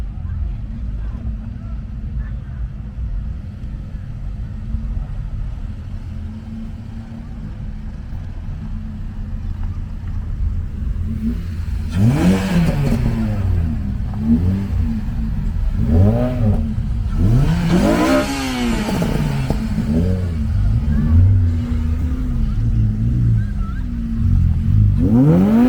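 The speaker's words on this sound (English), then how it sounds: "There's at least 3 that are rolling out at the same time." Several Mugen-tuned Honda Civic Type R cars roll out together at a UK car event, engines rising and falling in overlapping revs over a steady crowd-and-engine background, with talk in between.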